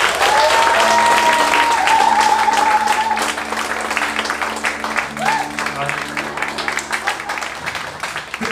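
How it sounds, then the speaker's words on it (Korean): An audience at a book launch gives a poet loud, close applause. Dense clapping continues while a tonal sound and faint voices run underneath, then the clapping grows more scattered and eases off. "큰 박수 한 번"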